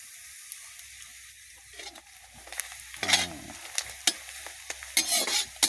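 Onions sizzling in a pan, a steady frying hiss broken by sharper scraping and stirring bursts that grow busier toward the end.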